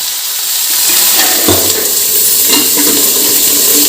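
Green chillies frying and crackling in hot oil in a kadai, a steady close hiss with a sharper sizzling burst around the middle, loud and continuous with no talk over it.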